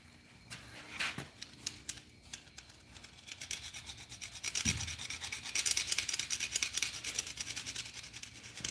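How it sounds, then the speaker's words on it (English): Old gaskets scraped off an engine produce quiet, rapid rasping strokes that grow denser and a bit louder toward the end, with a few faint knocks along the way. "I know y'all getting bored watching me scrape gaskets"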